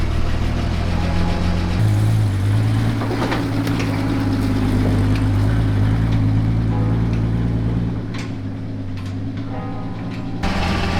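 A 1967 Jeep Kaiser engine runs steadily close by, a low droning rumble with a constant hum, plus a few faint clicks and knocks toward the end.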